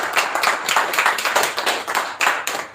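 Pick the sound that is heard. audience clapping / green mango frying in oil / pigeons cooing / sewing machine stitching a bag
audience clapping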